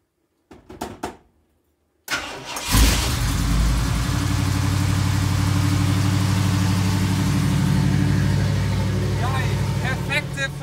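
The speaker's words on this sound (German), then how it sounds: "Starten wir mal den Motor, wa?" A 1975 Ford F250 with a 7.5L engine and a Golf mk2 alternator: a few clunks, then the engine cranks and catches, settling into a loud, steady, close running rumble with voices faintly over it.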